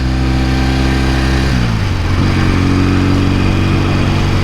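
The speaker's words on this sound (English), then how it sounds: "Yeah, it's a lovely bike to ride, really is. Extremely smooth for a 1960s bike." A 1968 Norton Commando engine runs loudly and steadily at close range, a thick continuous drone whose pitch dips briefly in the middle before settling back into an even, smooth note, with no voices.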